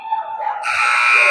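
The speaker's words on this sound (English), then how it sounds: "And that is the buzzer in the end of the first period" A loud period-end buzzer at a women's ice hockey game between the Sioux Falls Lady Flyers and Fort Frances sounds out, a sustained harsh electronic tone that swells over rink noise and holds steady to the end.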